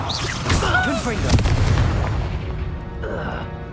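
The Confringo explosion spell in the video game Hogwarts Legacy lets off a sudden booming blast that fades into a rumbling tail, with voices and combat sounds around it.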